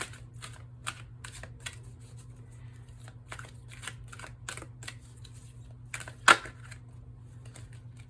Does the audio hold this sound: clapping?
no